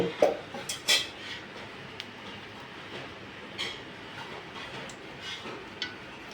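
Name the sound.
pan set on stove and oil poured in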